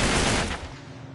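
Rapid gunfire from the video game Uncharted 3 Drake's Deception: a loud, dense burst of sustained shots filling the whole moment and fading slightly toward the end, with no voices.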